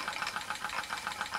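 A Bowman E101 model steam engine runs steadily, giving a fast, even chuffing rhythm of regular beats at moderate loudness with no talk over it.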